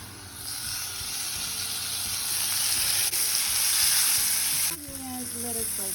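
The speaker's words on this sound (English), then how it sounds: "And let it saute." Spinach sautéing in a hot pan for a vegan potato dumpling mushroom filling, giving a steady loud sizzle and hiss that swells and then briefly drops, with faint stirring and no talk.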